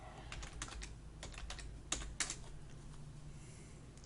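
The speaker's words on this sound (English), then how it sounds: "so go here and type in Amy Alcini." Fingers type on a computer keyboard in a quick run of soft key taps, close and quiet, with no speech.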